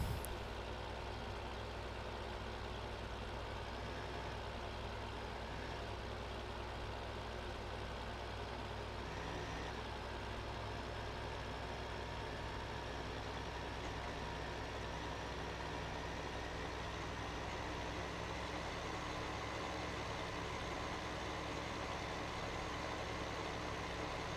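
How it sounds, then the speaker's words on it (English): A tractor engine in the Farming Simulator 15 video game labours uphill while hauling corn, a steady, loud, droning rumble that holds evenly throughout with no talking. "Come on, tractor, make it up the hill."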